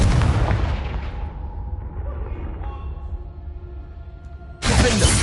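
A fiery Confringo spell blast from Hogwarts Legacy goes off with a loud, broadband burst, then a rumbling, ringing tail fades over several seconds before a second loud blast hits near the end.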